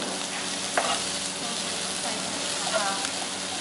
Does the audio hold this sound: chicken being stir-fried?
yes